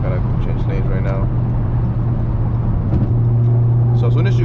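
A 2018-or-later Toyota Camry driven in manual mode hums in fifth gear, then the engine note steps up as it accelerates. Steady road rumble runs throughout, with a person talking over it.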